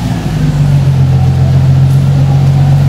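A Lexus GS300 with its 2JZ engine and a Megan Racing exhaust gives a loud, close, steady low exhaust drone that holds nearly constant through the short stretch, with no voices.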